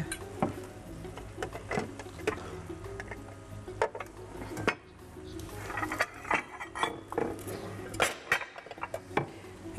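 Plates and cutlery clink and clatter in a home kitchen as pumpkin cream soup and gnocchi are plated, with irregular sharp knocks and scrapes close by and faint talk underneath.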